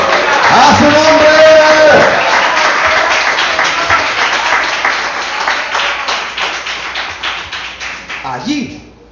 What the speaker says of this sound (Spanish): ¿Por qué no aplaudas al Señor que viene pronto?